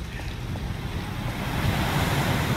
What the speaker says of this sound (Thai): ลมพัดแรงฮะ